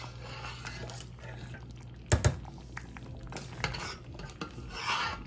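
Fig jam simmering down in a pot at home, a low steady bubbling with scraping stirs and a couple of sharper clanks from the pot, with no one speaking.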